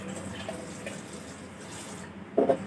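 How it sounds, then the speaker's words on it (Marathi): Water is poured over homemade butter being washed by hand while making ghee, giving a soft, steady splashing and trickling that runs throughout, ending with a brief louder slosh near the end. "आता मी अजून एकदा टाकते पाणी"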